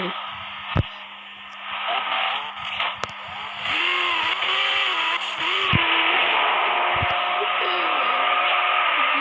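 A modified vehicle engine runs with a steady buzzing drone that climbs and settles in pitch, with a few sharp clicks along the way and someone speaking over it.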